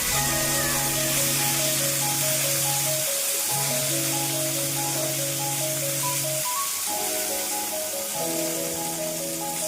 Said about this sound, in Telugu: మూత పెట్టి ఫ్రై చేసుకున్నామండి.